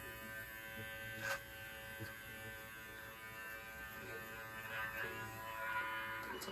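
An electric beard trimmer with a guard buzzes steadily and close as it trims a beard, with a constant motor whine and small changes in tone as it moves through the hair.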